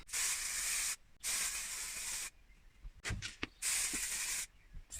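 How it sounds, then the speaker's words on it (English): Spray glue hisses from a can onto a sofa cushion in long bursts, about a second each, with short pauses and a few soft clicks and knocks between sprays. "I'm going to use is spray glue."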